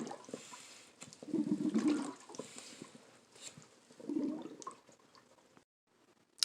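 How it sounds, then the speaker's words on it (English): Water gurgling and burbling inside a portable camping shower bag while a foot pump inflates it, with two louder bursts of bubbling separated by quieter trickling, close up and with no talking. "You're going to hear a gurgling sound."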